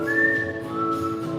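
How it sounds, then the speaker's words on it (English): A person whistles one continuous, wavering tone that keeps going without a break as they breathe in and then out, close and fairly loud, with the pitch dipping slightly midway. "You can whistle inside and out, so you go."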